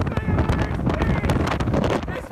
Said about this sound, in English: The winds just start whipping past me on the trail.